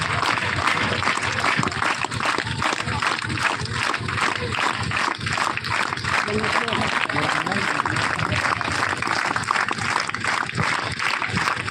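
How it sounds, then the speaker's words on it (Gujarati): A crowd of students keeps up continuous applause at a school groundbreaking ceremony, the clapping steady and full for the whole stretch, with talk mixed underneath. "તાળીઓ સતત ચાલુ રાખીશું વિદ્યાર્થી મિત્રો"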